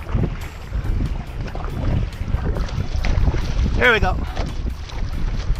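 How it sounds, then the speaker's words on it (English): Wind rushes past an outrigger canoe paddled downwind from Hawaii Kai to Waikiki, a steady buffeting roar over water splashes, with a brief spoken remark and a short whistling burst near the end. "I'm starting to feel some wind now at my back."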